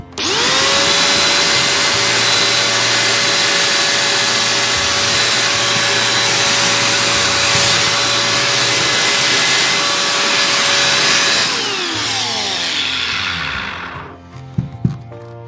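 A repaired Fantom P1200 vacuum cleaner motor, previously seizing, runs with a loud, steady, high whine close by, then spins down toward the end with a couple of faint clicks.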